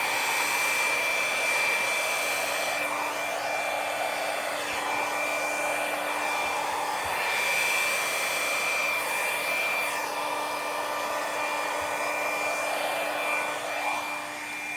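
A hair dryer blows steadily and evenly for a long stretch, drying a freshly poured acrylic paint bloom; a close, constant whirring hum with no talking.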